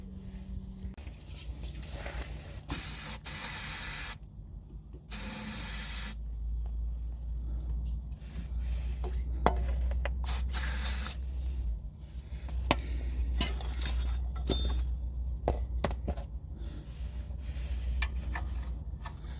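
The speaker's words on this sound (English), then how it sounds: "I'm going to give it a spray and see how we do." Several short hissing bursts of lubricant sprayed from an aerosol can onto a nut on a Volvo rear trailing arm, over a steady low hum, with clicks and small handling noises in between.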